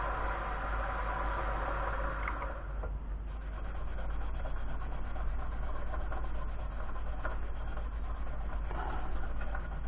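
A wooden fountain pen blank spins on a lathe while sandpaper rubs against it, producing a steady, close, raspy hiss layered over the constant hum of the lathe motor.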